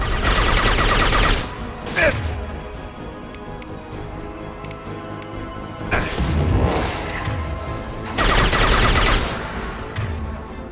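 The Impact shot ability fires in Mass Effect, with loud bursts of rapid gunfire and crashing blasts at intervals. Several intense volleys stand out above a busy combat din, and someone speaks under it.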